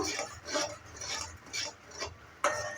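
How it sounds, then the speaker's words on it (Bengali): A spoon scrapes and stirs spices in a pan for bitter gourd kofta curry, giving repeated rhythmic rubbing strokes close by, with a sharper clink near the end. "সব কিছু দেওয়ার পর ভালো করে মিক্স করে নিচ্ছি"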